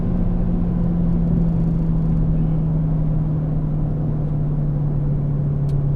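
A Dodge Demon drives at light, quarter throttle. Its engine gives a steady, loud low drone and rumble that holds nearly constant, with the pitch easing slightly, and no one speaks.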